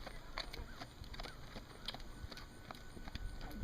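A horse canters in an arena, its hooves thudding in a quick, even rhythm at a moderate distance, faint and steady throughout.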